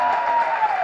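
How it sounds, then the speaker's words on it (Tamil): Audience applause at the Maatram event, a short, dense burst of clapping from a crowd, steady and fairly loud throughout. "அதுக்கு ஒரு பெரிய கைத்தட்டல் கொடுங்க"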